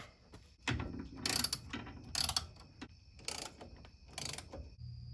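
A ratchet works loose the firewall bolts on a classic 1960s Ford during a front disc brake install, making bursts of quick clicking with short pauses and metallic clanks between them, close by and fairly quiet.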